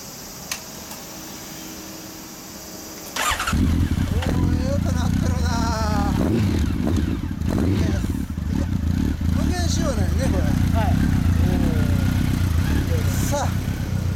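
A 2015 six-speed Honda VTR250 with a Mugen exhaust starts up after a short quiet stretch, then idles and revs loudly close by, with a steady rumbling engine note throughout.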